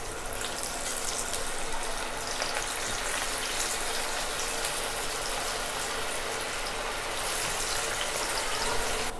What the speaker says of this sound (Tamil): இது இப்போ நம்ம எண்ணெய் வச்சு டீப் ஃப்ரை பண்ணி எடுத்துக்கலாம்